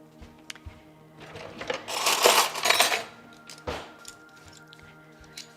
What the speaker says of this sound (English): that's just some spoons here